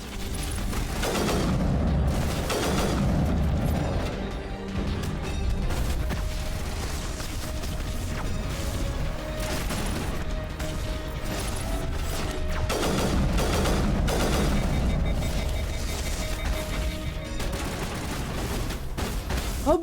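A modded Indra rifle firing on rapid-fire in Mass Effect 1, with dense, loud volleys of shots and booms in repeated bursts. Brief lulls fall between the bursts, and mechanical clatter and game music sit underneath.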